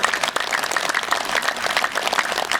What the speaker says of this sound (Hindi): जोर से ताली बजाकर